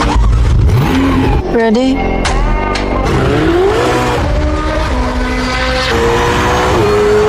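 A Ferrari twin-turbo 3.9-liter V8 of more than 700 horsepower revs sharply, its pitch rising in quick climbing sweeps and then holding a loud, strained tone. People talk over parts of it.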